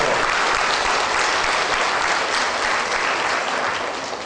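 Sustained audience applause at a local event in Stryi, dense steady clapping throughout at a fairly loud, even level with no talk over it.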